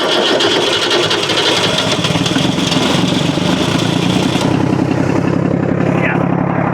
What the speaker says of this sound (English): I'm gonna get the motor started first because I need to do that before we jibe the Spinnaker